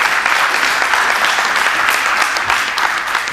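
Clapping from an audience at a talk, a dense continuous patter of hands throughout, fairly loud and even, with no speech on top.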